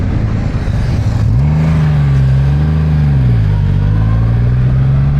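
A Triumph Rocket 3 R motorcycle at full throttle, its loud, deep engine note holding steady and then climbing sharply as it accelerates hard, close up and with no talking.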